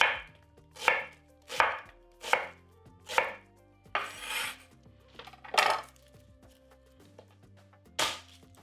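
A knife cutting an onion into thick slices on a board, about a dozen crisp close chops at an uneven, unhurried pace with short pauses.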